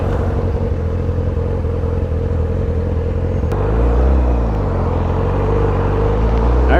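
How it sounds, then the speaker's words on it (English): A 2007 Yamaha R6 motorcycle with a full exhaust and Power Commander 5 drones steadily at high RPM, then swells into a louder, deeper, rising rev partway through, close to the microphone with no talk. "the microphone will catch a little more of that very delicious high-end RPM exhaust tone"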